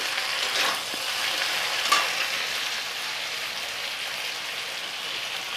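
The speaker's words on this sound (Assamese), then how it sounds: "অকণমান হাই ফ্লেমত দি এনেকৈ ভাজি আছোঁ।" Chicken pieces of local fowl frying on high flame, a continuous dense sizzle like heavy rain hissing steadily from the pan, close and even throughout, with a faint stir or two and no talking.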